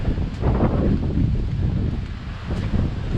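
Strong typhoon winds on Rua de Hac Sá Long Chao Kok, a seaside road in Macau: continuous heavy wind roaring into the microphone, dense and loud with slight gusting swells, no voices.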